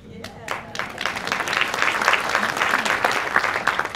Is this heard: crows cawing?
no